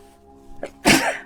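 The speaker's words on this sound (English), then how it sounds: "Usually I sneeze in threes." A single sharp sneeze bursts out loud and close, preceded by a brief intake of breath, from a speaker giving a motivational talk about attention and focus.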